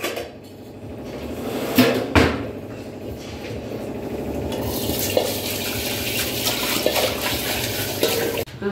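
Cooking oil being poured out of a can in a home kitchen, a continuous trickling, gurgling stream with a couple of sharp metallic knocks from the can, heard close and fairly loud.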